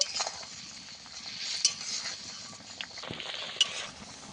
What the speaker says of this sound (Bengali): ভালোভাবে ফুটিয়ে ঝোলটাকে মেরে নেব